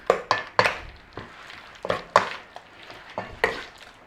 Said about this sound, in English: I'm going to stir it all into my meat.